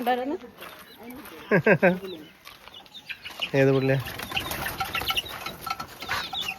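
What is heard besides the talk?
chickens clucking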